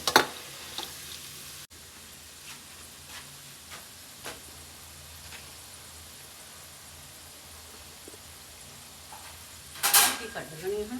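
Soft crackling sizzle of pakoras frying in hot oil runs throughout, with a few clinks of utensils and a louder clatter near the end.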